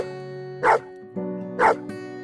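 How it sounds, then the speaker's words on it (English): A dog barks twice, sharp and fairly close, about a second apart, over a steady musical backdrop with sustained tones. "Mum got them a new dog,"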